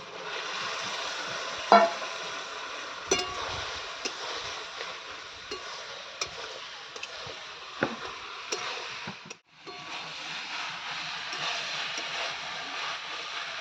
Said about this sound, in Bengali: এর মধ্যে আমি এবার এই পুঁই রাখা চচ্চড়িটা দিয়ে দিচ্ছি।